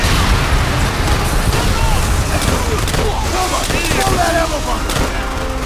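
Continuous loud rumbling blasts and bursts of explosions in Call of Duty: World at War, dense and noisy, with excited voices talking over the din.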